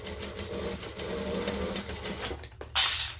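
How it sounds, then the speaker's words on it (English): A sewing machine runs steadily, stitching and backstitching a backpack gusset, with a fast even motor whir close by and a sharp clack as it stops near the end. "I'm going to stitch and back stitch, and then we're just going to"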